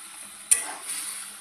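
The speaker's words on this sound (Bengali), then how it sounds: "লাড়া দিয়ে নেব" Fish and onion masala sizzles and is stirred in a pan, opening with a sharp scrape at the start followed by a steady soft frying hiss, fairly quiet and close with no talking.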